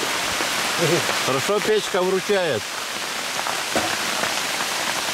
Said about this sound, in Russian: Град, вот так град, ребята. Крупа.